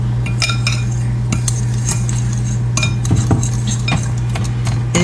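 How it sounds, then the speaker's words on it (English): A breadcrumb mixture for fried mozzarella sticks is stirred in a bowl, with steady close clinks and scrapes of a utensil against the dish over a constant low hum, and no talk. "I'm gonna add that, kind of stir that up."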